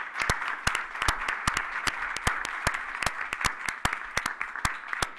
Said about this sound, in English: join me in applauding and thanking the candidates for coming this evening